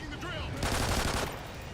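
Gunfire at aliens in Call of Duty Ghosts Extinction mode at a motel, a dense rattling burst rising in the middle over a busy game din, with a voice talking underneath.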